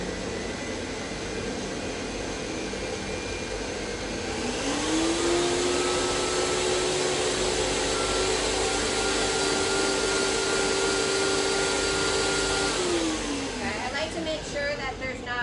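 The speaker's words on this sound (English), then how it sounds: "And put the blender on." Kitchen blender running on a full jug of sugar glider food, starting up with a rising whine, holding a loud steady motor drone, then winding down, over constant background noise.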